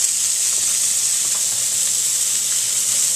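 Salmon fries in a pan with a loud, steady close sizzle and hiss, continuous and unbroken, with no voices.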